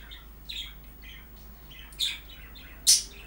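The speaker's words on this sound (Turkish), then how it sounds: "çeşit çeşit kuşlar" Assorted colourful birds give scattered high chirps and squawks, with a few louder sharp calls standing out over a low steady hum.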